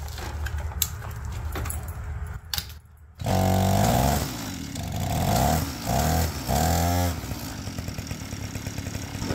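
APC mini chopper motorcycle engine running with exhaust leaking at the muffler gasket, a loud close rasping idle that blips and revs several times, then settles into a steady buzzing drone.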